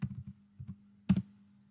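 Quick keystrokes on a computer keyboard in Windows PowerShell: a short burst of clicks, a pause, two more taps, then a firmer double press, close and isolated.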